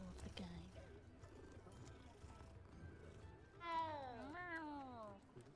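A cat in Hogwarts Legacy gives a drawn-out, wavering meow near the end, heard over quiet background game ambience and faint knocks.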